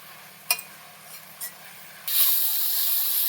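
Mint leaves fry in oil in a pan with a few sharp ticks at first, then a sudden loud, steady hiss of sizzling that carries on to the end.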